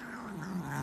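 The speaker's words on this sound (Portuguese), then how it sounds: "você não é um gato violento." A cat growls at a grooming glove, a low, sustained throaty rumble with a slight rising and falling waver, close and moderately loud for under a second, with no talking.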